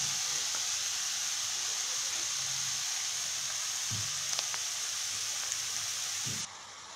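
Spinach tossed with salt and a little turmeric sizzles steadily in a hot pan for a spinach and fish roe dish, a constant close frying hiss with a few soft utensil knocks, cutting off abruptly near the end.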